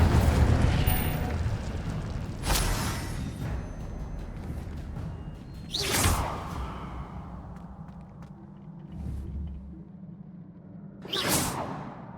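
Incendio fire spell cast in Hogwarts Legacy, heard as three loud whooshing bursts spaced a few seconds apart over a low rumbling game ambience, with no talking.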